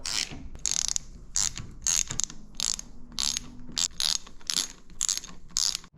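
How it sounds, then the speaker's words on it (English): A ratchet wrench tightens the sixteen oil pan bolts on a 4L65E automatic transmission during a rebuild, giving repeated close bursts of rapid metallic clicking with short pauses between strokes and no talking. "there are 16 pan bolts, so this is kind of a long process, but now we're gonna tighten them all down"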